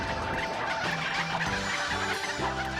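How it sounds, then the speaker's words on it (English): Turkeys gobbling in a video game, a loud burst of repeated warbling gobbles stacked over busy game sounds. "How long can you last with the turkeys with all these bombs coming"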